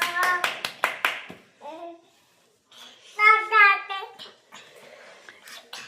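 About six quick, sharp hand claps keep rhythm with a Jagannath devotional chant, then voices carry the chant, with a small child's vocalising mixed in.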